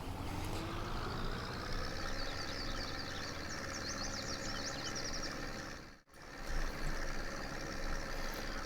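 A tractor engine in a farming video game drones steadily at a medium pitch, idling and pulling on a slow drive to the dealership, with one brief dropout near the end and no voices.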